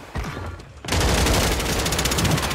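Rapid automatic gunfire in Call of Duty, a dense continuous burst that starts abruptly after a brief quieter moment and stays loud and close to the end.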